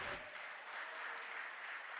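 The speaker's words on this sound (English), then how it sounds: "So a round of applause." Faint, distant applause from a pool hall crowd at a ten-ball tournament, a steady wash of clapping throughout the short stretch.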